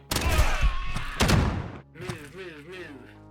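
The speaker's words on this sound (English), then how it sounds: "Go ahead and start ripping shots over here to set that on fire" Rapid gunshots fired in the Quasimorph video game to set things ablaze, a loud burst of shots and thuds in the first half, then a voice talking over quieter game sounds.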